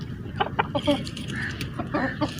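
Chickens cluck in short, irregular bursts close by, just let out of their coop in the morning, with a rooster's call mixed in over a low background murmur.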